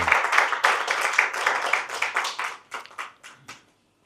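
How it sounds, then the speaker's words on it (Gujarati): An audience at a literary lecture event claps to welcome the speaker, a brisk burst of hand clapping that thins out over a few seconds into scattered claps before stopping. "આપણે વક્તાશ્રીનું ખૂબ તાળીથી અભિવાદન કરીશું"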